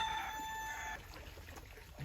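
A red native desi village rooster gives a brief, fairly loud crow or call in the opening second, then fades into faint rustling and scattered farmyard noise with no talking.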